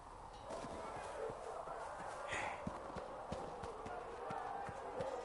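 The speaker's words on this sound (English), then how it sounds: "The Inquisition scouts are getting one of Master Dennett's best horses" Horse hooves clip-clop at a steady walking rhythm in the video game Dragon Age: Inquisition, a run of evenly spaced, moderately close thuds with a soft background ambience and no speech.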